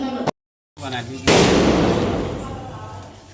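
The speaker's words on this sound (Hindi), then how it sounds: "ये लोग पटाखे फोड़ रहे हैं" Firecrackers burst outdoors at a housewarming celebration, with one loud sharp bang followed by a long crackling, rumbling decay, after a brief stretch of voices.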